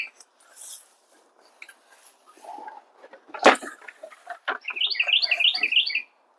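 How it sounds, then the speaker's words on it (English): Small birds chirp and twitter outdoors in a yard, a few scattered calls early, then a busier run of quick repeated chirps near the end, mixed with a sharp nearby knock and light handling noises. "Birds fussing at me, I guess."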